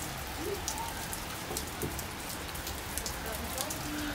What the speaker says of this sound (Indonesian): Hujan gak berhenti-berhenti.